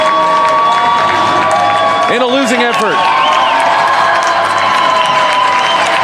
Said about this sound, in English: We'll just let you enjoy the crowd noise and celebration for a moment